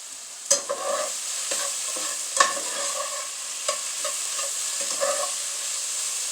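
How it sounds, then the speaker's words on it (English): Cottage fries being stirred in a frying pan, a spoon scraping and tapping the pan in scattered strokes over a steady, close sizzle of frying potatoes. "Give that a stir where it don't clump up together"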